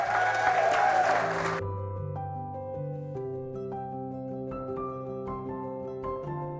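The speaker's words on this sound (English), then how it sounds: "giving a big round of applause to Wigwam for that fish fry and everything they do" A crowd at a fishing tournament gathering claps loudly for Wigwam, a dense burst of applause that cuts off after under two seconds, leaving a soft sustained musical tones.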